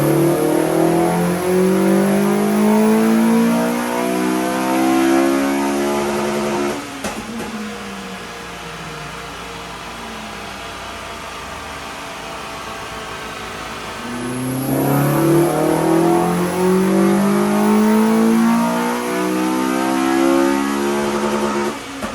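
A Honda Civic FN2 Type R with a Tegiwa 70mm exhaust revving hard on a dyno, two long loud climbing engine pulls separated by a quieter idling stretch.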